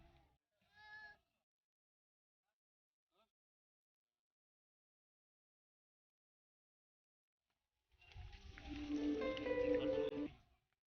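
A goat bleats loudly and close for about two seconds near the end, with a short faint call and a brief human vocal sound earlier amid otherwise quiet surroundings.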